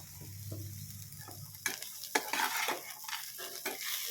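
Bitter gourd frying over a low flame in a pan with salt and chili powder, a soft steady sizzle with scraping stir strokes that grow louder and more frequent partway through.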